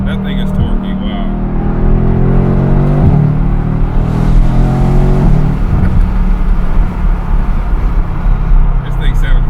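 A twin-turbo V8 Mercedes AMG GT R with 600 wheel horsepower accelerating hard, the engine roaring loud and close with rising pitch sweeps through gears, under occasional talk from inside the car.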